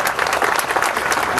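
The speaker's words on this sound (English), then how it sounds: "that round of applause should go to my audience" Applause from a talk radio audience, dense and steady, with continuous clapping filling the space at close range and no pauses.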